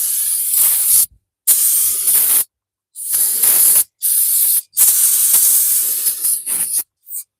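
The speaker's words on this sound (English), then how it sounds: "Once we do that, we get our brake cleaner" Brake cleaner sprayed from an aerosol can onto a brake rotor and parts: loud hissing bursts in about six separate sprays, mostly a second long, with short silent gaps between and a brief final puff.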